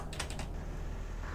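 Quick burst of keypresses as a route number is typed into a bus destination panel in OMSI 2 on a London Route 59 Wright Routemaster, a few rapid clicks early on over a steady low engine hum.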